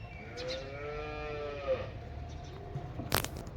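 A pregnant cow close to calving lets out a drawn-out, resonant moo, followed by a brief sharp noise near the end, heard alone and fairly close.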